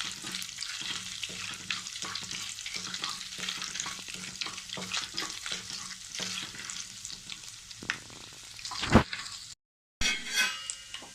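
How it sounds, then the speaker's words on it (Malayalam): Vermicelli frying in a pan for semiya payasam, a steady sizzle with repeated scraping stirs until browned, then a brief clatter and a short silent gap near the end. "ഇതൊരു ചെറിയ ബ്രൗൺ ആകുന്നിടം വരെ നമുക്ക് ഇത് ഫ്രൈ ചെയ്യാം."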